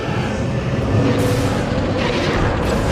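A loud, rumbling burst of explosive noise with a heavy low boom, sustained and dense, from a spell explosion in a competitive video game match.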